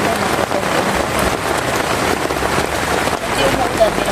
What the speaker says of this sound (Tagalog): Umuulan, no?